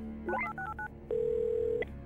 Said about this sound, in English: we should go to the random phone dialer